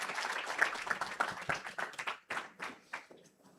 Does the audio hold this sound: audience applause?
yes